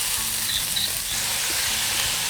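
Onion is mixed on a hot griddle for chicken kothu porotta, giving a loud, continuous sizzle with faint scraping underneath and no pauses.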